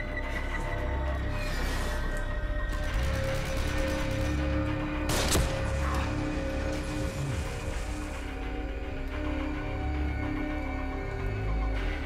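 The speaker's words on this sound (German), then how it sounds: "Cool, dass so ein Schuss reicht." A single sharp gunshot cracks out midway through a dense bed of whirring machinery and ambience in the video game The Evil Within, with no talking.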